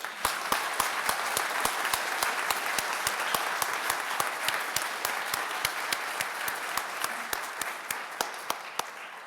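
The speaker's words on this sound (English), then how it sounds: "A big round of applause for all of them." An audience at a biology commencement claps for graduating master's students, a dense, steady round of applause with crisp individual claps standing out, sustained and close without a break.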